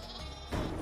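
Sheep in the video game Flockers let out a short, close bleat that swells partway through a brief burst of game audio.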